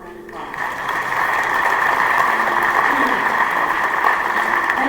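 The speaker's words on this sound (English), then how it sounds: "Let's give a round of applause." Audience applause at a queen's coronation ceremony linked to the Daffodil Festival, a dense sustained wash of clapping that swells after a brief start and holds steady, loud and continuous.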